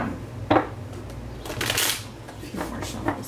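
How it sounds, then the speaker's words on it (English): Tarot cards being shuffled during a Scorpio reading: a few separate papery riffles and slides of the deck, close and fairly soft, alone with no talk. "a few more shuffles here."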